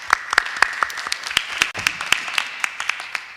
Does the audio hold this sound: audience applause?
yes